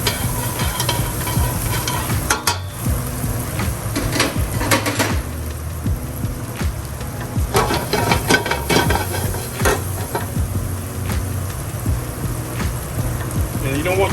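Garlic sizzles in melted butter in a pan on the stove, a steady close crackle with occasional stirring clinks from the pan running throughout.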